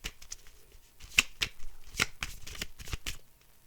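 Oracle cards being shuffled by hand, a series of soft close riffles and flicks in irregular bursts, quiet overall.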